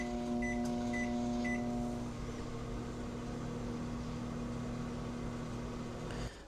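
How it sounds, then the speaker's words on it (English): Oatmeal heating in a microwave oven gives a steady, fairly quiet hum with a few faint beeps at the start and a click near the end. "So I just took it out of the microwave"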